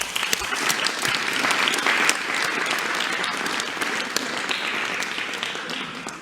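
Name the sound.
applause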